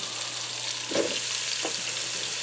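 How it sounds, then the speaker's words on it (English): Onions sautéing in a Ninja Speedi cooker give a steady, soft broadband sizzle throughout, with a couple of brief stirring scrapes near the middle and no talking. "I'm going to allow these to saute in here for a few minutes so they start to soften up"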